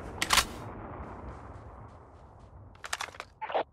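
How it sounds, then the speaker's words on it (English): A weapon reload in the mobile shooter Call of Duty Mobile: a quick burst of sharp mechanical clicks, then a quiet stretch, then a cluster of rattling magazine and bolt clicks near the end, all close and crisp. "Cover me, reloading."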